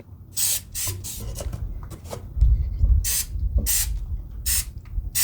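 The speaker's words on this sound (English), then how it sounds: "hold it between 8 and 12 inches away from the spot I'm spraying" Gorilla Waterproof Patch and Seal spray hisses from an aerosol can in a series of short, close bursts, with quieter rustling between them.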